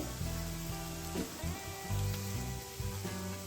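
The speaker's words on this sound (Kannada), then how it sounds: "ನೀರುಳ್ಳಿ ಚೆನ್ನಾಗಿ ಫ್ರೈ ಆಗಿದೆ ಈ ರೀತಿ ಸ್ವಲ್ಪ ಕಂದು ಬಣ್ಣ ಬರುವವರೆಗೆ ನಾವು ಫ್ರೈ ಮಾಡ್ಕೋಬೇಕು" Onions frying in a pan for chutney give a steady, soft sizzling hiss that runs throughout, with tonal background music layered on top.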